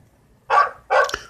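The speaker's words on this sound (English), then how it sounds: "Unless those dogs drive me insane." A dog barks twice in a quiet neighborhood, two close, loud, separate barks with a short pause between them and no voices.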